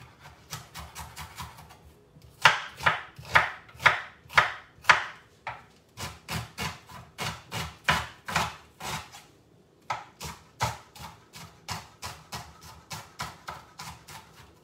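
Peppers are chopped into small pieces with a knife, a long run of quick, evenly spaced strikes in steady bursts with brief pauses between, close and moderately loud without speech.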